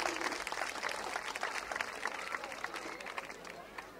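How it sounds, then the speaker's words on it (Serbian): An audience at a children's music festival in Donji Milanovac applauds, a steady dense clapping that fills the hall and carries on throughout. "Još jedan aplauz za ove dve vaše sugrađanke"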